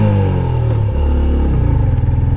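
A Honda CB150F motorcycle engine pulls loud and close while accelerating in first gear, its steady drone climbing in pitch with a slight dip midway as it revs up.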